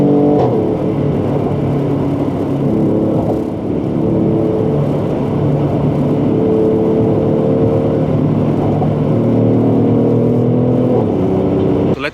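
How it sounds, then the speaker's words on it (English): A 2017 Mercedes-Benz GLE 450 AMG engine runs with a deep, throaty drone, holding a steady rev and easing briefly before climbing again, loud and close with a sharp blip near the end. "It's very deep throaty engine"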